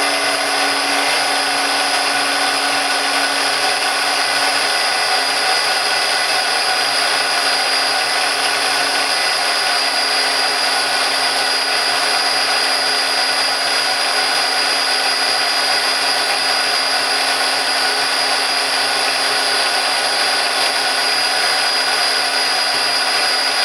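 A food processor runs steadily and loudly as it blends homemade hummus with olive oil, giving a constant motor whine with no pauses throughout.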